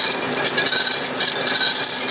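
A drill bores into graphite in a tool workshop, giving a continuous gritty grinding hiss that stays close and even for the whole stretch.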